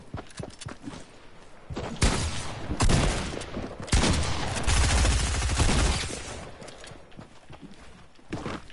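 Bursts of gunfire in a Fortnite match, with rapid volleys and heavy thumping shots in clustered runs separated by quieter gaps, fairly loud and with no talking over them.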